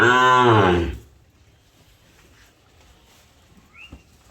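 A single loud moo from a Sahiwal bull lasts about a second, then fades into near silence with faint background noise.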